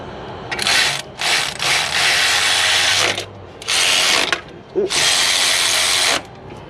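Ratchet spinning off nuts from studs on a 2005 LLY Duramax diesel engine during head gasket work, several bursts of rapid clicking a few seconds each, close and loud, separated by brief pauses.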